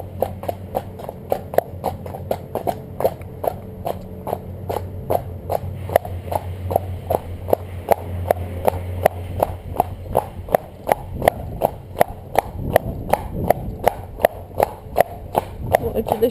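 Horse trotting in a steady two-beat rhythm of close, crisp hoof clip-clops, sustained and even throughout the clip over a low background hum.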